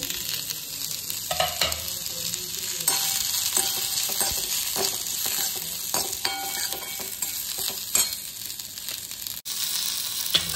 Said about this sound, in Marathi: हे आपण छान भाजून घेऊ थोडंसं तेल टाकून